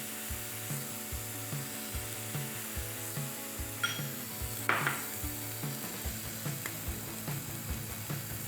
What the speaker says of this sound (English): We want to score the squid tubes.